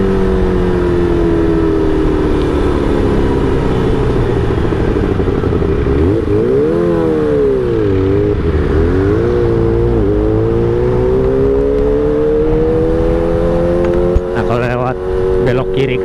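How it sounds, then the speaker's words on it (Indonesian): Kawasaki ZX25R four-cylinder motorcycle ridden at night through a busway tunnel in Kalimalang, its engine note rising and falling continuously and echoing loudly, with a few brief revs near the end. "Suara ZX atau suara 4 silinder menggema."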